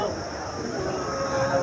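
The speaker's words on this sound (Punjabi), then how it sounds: "ਬਹੁਤ ਚੰਗੀਆਂ ਮੱਝਾਂ" Buffaloes at the Mandi Dabwali cattle market: a drawn-out low moo sounds near over a steady background of crowd murmur and market noise.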